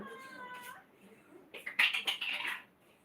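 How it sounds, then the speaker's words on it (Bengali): A cat meowing from under a bed inside a house, a couple of clear, close, drawn-out meows with a strained, caterwauling edge, separated by quiet. "ঘরে ম্যাও ঢুকেছে"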